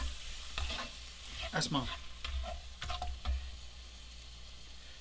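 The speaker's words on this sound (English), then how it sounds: "So we're going to let this cook down." Jambalaya cooking down in a pot, a soft steady simmer and sizzle with a few spoon scrapes and clatters early on, close but fairly quiet, with a brief voice speaking.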